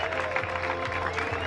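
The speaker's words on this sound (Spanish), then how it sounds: "Aplauso" A crowd at the Dragon Battle Race in Santiago del Teide applauds a local runner, giving a steady, moderately loud wash of clapping over a low background hum.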